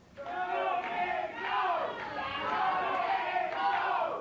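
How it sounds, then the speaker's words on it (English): A pro wrestling arena crowd chants in unison, a rhythmic, loud group cry repeated several times over the whole span, steady and close. "Go, Dave, go is the cry from the crowd"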